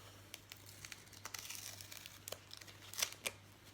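Large adhesive tape peels and crinkles off a package during an unboxing, a series of short, quiet crackling tears and rustles heard up close.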